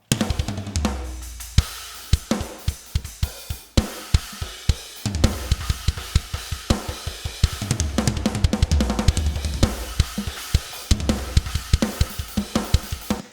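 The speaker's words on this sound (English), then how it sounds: "So this is the drum groove that we've got going on right now." A full, produced drum groove from the GGD Modern and Massive 2 drum library: punchy kick and snare hits with dense cymbals in a steady driving pattern that drops out briefly and returns, loud and alone.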